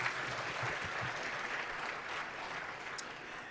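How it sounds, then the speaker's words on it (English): A colloquium audience applauds its speakers, a steady, fairly faint wash of many hands clapping that holds evenly for the whole stretch. "Can we give them another round of applause"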